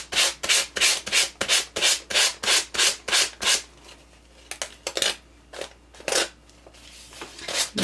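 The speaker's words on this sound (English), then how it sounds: "What I'm going to do is just see if I can sand off this extra." Hand sanding of excess partly dried tar gel, a steady run of rhythmic, loud scratchy rubbing strokes that briefly pauses midway and then resumes in shorter, uneven bursts.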